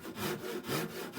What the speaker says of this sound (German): Von hinten säge ich jetzt erstmal, nachdem ich die Form grob angezeichnet habe, mit der Japansäge so kleine Schlitze rein.